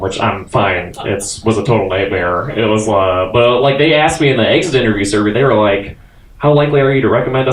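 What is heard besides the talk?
No everyday noises stand out.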